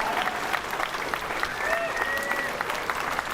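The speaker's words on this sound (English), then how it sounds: "Let's give him a huge round of applause." Loud crowd applause at a Tetris championship final, dense continuous clapping with scattered cheers that carries steadily from start to finish.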